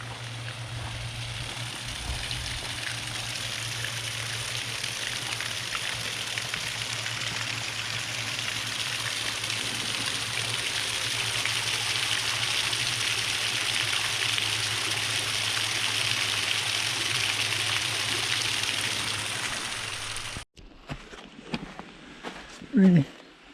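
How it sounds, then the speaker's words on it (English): Water trickling through canal lock gates on a frozen winter day, a steady soft rush held for about twenty seconds before it cuts off, followed by a few close handling knocks. "Again, it's trickling through the gates."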